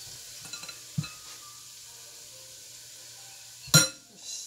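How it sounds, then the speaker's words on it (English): Vegetables stirred in a pot for roasted acorn squash soup, faint sizzle with a couple of soft scraping knocks and one sharp clink of utensil against the pot near the end. "Give our vegetables a stir."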